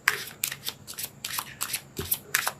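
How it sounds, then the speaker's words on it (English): Tarot cards being shuffled and one drawn, a run of quick, crisp riffling bursts in an uneven rhythm, close and clear with no talk. "Let's pull a card for your emotional space."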